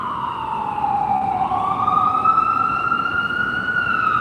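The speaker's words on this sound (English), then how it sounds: "I got an ambulance pulling by." An ambulance siren wails past on a street, its sweeping tone loud and steady throughout, rising and bending in pitch as it goes by over a rumble of road traffic.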